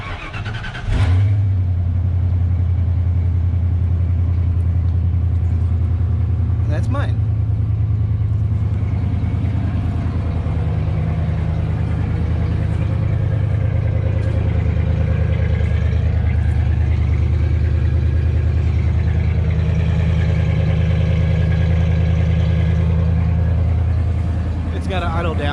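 A gasoline pickup truck engine runs close by, settling into a steady low idle that continues for the whole stretch, with someone speaking briefly over it.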